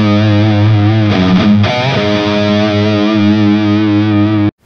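A Friedman BE100 guitar amplifier with its fat switch engaged plays a thick, distorted sustained electric guitar chord, loud and close, with a brief strummed change partway through and no voices.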